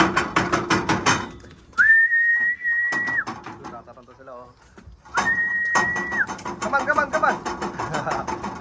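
Two sustained, steady whistle blasts for calling pigeons, each lasting about a second, ring out clearly over ongoing conversation and background noise.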